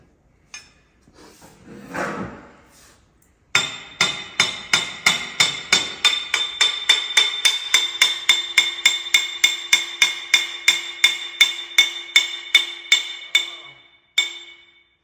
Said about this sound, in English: That whole smack of hammer right.